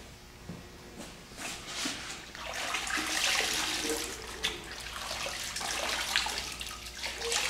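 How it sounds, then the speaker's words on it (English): A cleaning rag being rinsed under a running tap, a steady broadband splash of water that swells and continues throughout, close and fairly loud with no talk. "we'll go give our rag a rinse"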